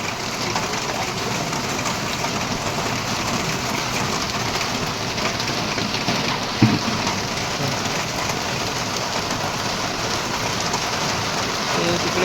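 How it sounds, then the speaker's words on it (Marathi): Heavy monsoon rain pours down steadily over Ramjinagar, with hills and a metro line nearby, making a dense, even hiss from start to finish, broken only by one brief thump partway through. "कसा पाऊस पडतो एकदम मस्त."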